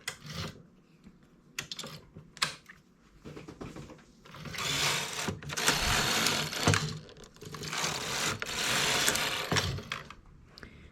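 Domestic knitting machine carriage sliding back and forth across the needle bed for two rows, a rough mechanical rasping whir in two long sustained passes after some lighter clicks and handling.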